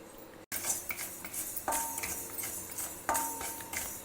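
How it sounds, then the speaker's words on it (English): Mustard and methi seeds dry roasting in a pan over a low flame give light metallic scrapes and clinks from stirring, with soft crackle underneath, fairly quiet and close, no talk. "Dry roast it over a low flame"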